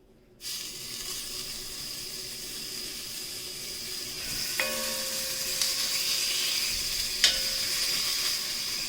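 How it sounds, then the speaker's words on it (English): Meat for birria searing in a Dutch oven pan, a loud continuous sizzle that begins abruptly and holds steady, with a few sharp pops and spatters, close and without talk. "just sear the meat. So I got my Dutch oven pan here. And I'm just going to sear it."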